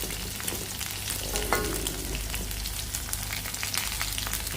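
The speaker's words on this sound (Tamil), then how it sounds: "சூப்பராக ப்ரான் ஃப்ரை ஆகிட்டே இருக்குது" Steady crackling sizzle of large prawns frying in a hot pan, a continuous bright hiss with scattered pops, no voices.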